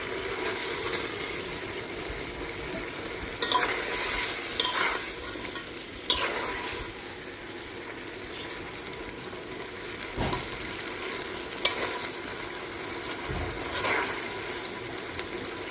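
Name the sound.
fried fish simmering in milk curry being stirred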